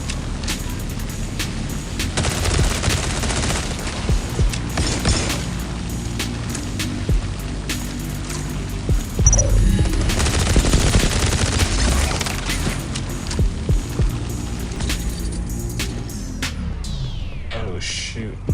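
Rapid automatic gunfire from the mobile shooter The Division Resurgence, sustained loud bursts of shots with brief pauses, dense and close, continuing for most of the stretch.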